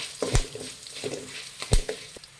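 A tempering of curry leaves and turmeric is stirred in a pan, with a few soft spoon knocks and scrapes over a faint low sizzle, quiet and close.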